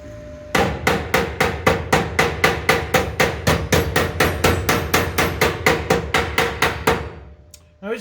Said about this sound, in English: Why do you hit it with a hammer afterwards?